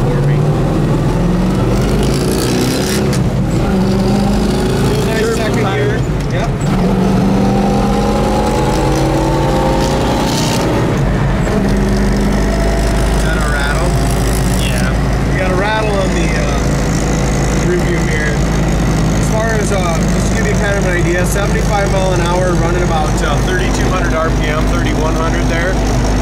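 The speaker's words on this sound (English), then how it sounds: "the idle is idling just a little low for me" A triple-black 1969 Oldsmobile 442 V8 idles slightly low after its choke came off, holding a continuous deep rumble throughout, with some faint background voices.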